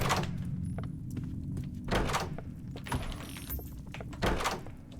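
A door opens in the Roblox horror game Doors, heard as a few sharp knocks and thuds over a steady low in-game rumble, with no talking.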